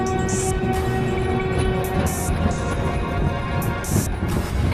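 A train pulls into a railway station, its steady rumbling roll joined by several loud, sustained horn blasts that come in short bursts, close and dominant throughout.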